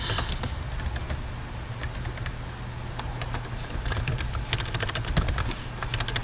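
Quick, uneven keystrokes on a computer keyboard while entering code, clicking steadily and close over a low background hum, with no talk.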